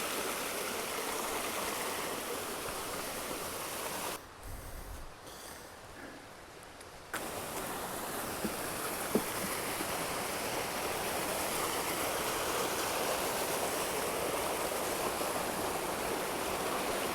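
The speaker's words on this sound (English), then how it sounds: "Babbling brooks." A babbling brook flows through the West Virginia mountains on a backpacking route to Summit Lake, a loud, steady rush of stream water that drops briefly to a quieter stretch before returning to a full, continuous wash.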